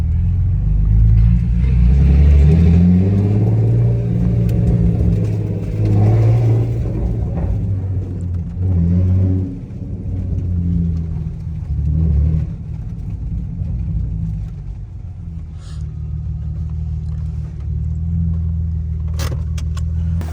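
A 2008 Saab 9-3 Aero convertible with a built engine rumbles loudly and steadily, rising in pitch in several revving surges over about twenty seconds, with a sharp click or jangle near the end.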